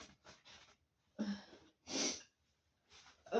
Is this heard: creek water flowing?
no